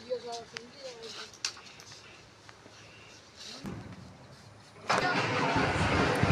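Scattered clicks and a short voice, then a motorcycle engine cranks and catches, settling into a loud, steady running roar close by.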